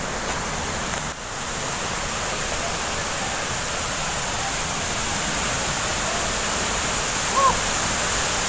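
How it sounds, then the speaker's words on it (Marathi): A waterfall near a Mahadev temple above a deep valley sends up a steady, unbroken roar of rushing water, even and constant from start to finish. "बघा कसं काय धबधबा आहे हे बघा."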